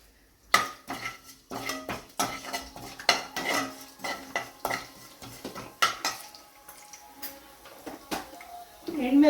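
Urad dal, cumin and mustard seeds tempering in oil, a sizzle under frequent clinks and scrapes of a metal spoon against the pan, close, with a person talking throughout.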